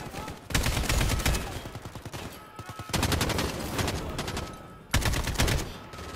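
Rapid automatic gunfire from Call of Duty: Modern Warfare, loud close bursts of rattling shots in three long volleys separated by short pauses, with faint talk underneath.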